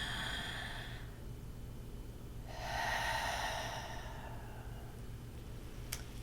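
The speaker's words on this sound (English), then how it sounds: "Let's take a nice deep breath." Deep breathing during a stress-release yoga session: a breathy inhale, a pause, then a longer, fuller exhale, close and soft over a low steady hum, with a small click near the end.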